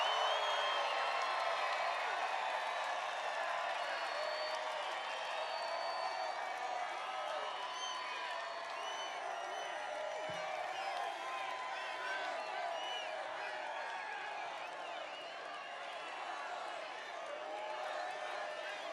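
A large campaign rally crowd in Reno, Nevada cheers, whoops and applauds steadily for the whole stretch, a dense roar of many voices and clapping at a distance with no clear pause.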